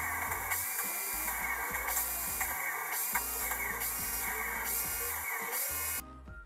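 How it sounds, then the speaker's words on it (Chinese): A four-wire CPU fan whirs with a steady whine and a rattly, tool-like buzz, heard up close; the sound cuts off abruptly near the end as the fan speed is forced down. "这时风扇的转速会大幅度下降"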